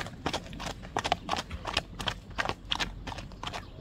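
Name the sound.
horse walking, hooves clip-clopping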